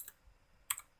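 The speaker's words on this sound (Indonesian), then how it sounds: "Di sini kita ketikkan" Two quiet, crisp keystrokes on a computer keyboard as a command is entered in a command prompt, set well apart in an otherwise near-silent room.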